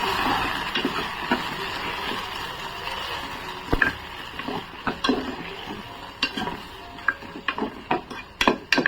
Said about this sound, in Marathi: छानपैकी आहे ना परतून घ्यायचा तांदूळ